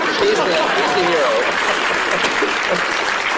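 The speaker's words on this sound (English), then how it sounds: "you can applaud him" An audience claps in a loud, dense burst of applause, mixed with voices talking and calling out.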